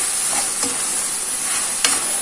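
Apples frying in a pan for an apple pie, a soft steady sizzle with a couple of faint stirring scrapes, close and alone with no talk.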